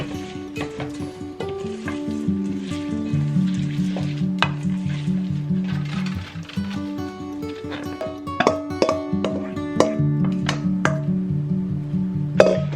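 Granola mixture coated in maple syrup stirred in a bowl, a steady run of scraping, clattering strokes close by for about thirteen seconds, with a tuneful music bed playing underneath throughout.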